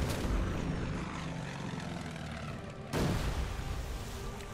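A Devastator torpedo bomber drones steadily in the Order of Battle Pacific game, its engine a loud continuous roar with a sudden swell of rushing noise partway through and no talk.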